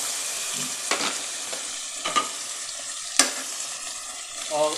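Chicken liver and gizzard frying for adobo with aromatics in a pan, a steady soft sizzle with a few sharper stirring knocks and scrapes, no talk.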